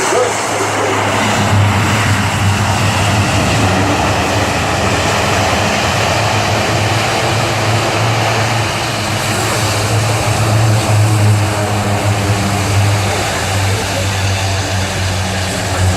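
A military aircraft comes in to land at the Farnborough air show, its engine roar loud and continuous throughout with a steady low drone underneath, heard from nearby with no talk over it.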